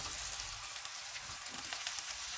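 Masala chicken boti cooking on low to medium heat in a pan, a faint, even, crackling sizzle like light rain, steady and unbroken for the whole moment.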